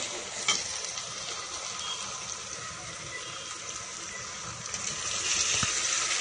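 Two tomatoes sauté in hot oil over ginger-garlic paste for mutton kuzhambu, giving a steady, loud, close sizzle with faint stirring touches that swells slightly toward the end, and no voices.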